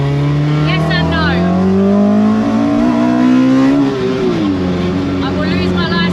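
Ford Escort Mk2 with a YB Cosworth engine on carburettors, driven hard: loud, close engine note climbing steadily in pitch under acceleration, then a gear change and renewed pull, with people talking over it inside the car.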